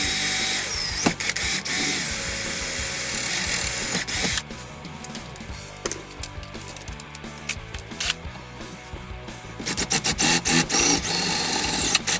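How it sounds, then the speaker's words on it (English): A power drill whirs close by in stop-start bursts, drilling holes in steel, with clicks and rattles between runs and a longer, louder stretch near the end. "I'm going to drill some holes like that and plug weld it."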